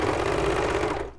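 A sewing machine stitches fabric, making a loud, steady rapid mechanical whir that runs continuously before winding down and stopping near the end.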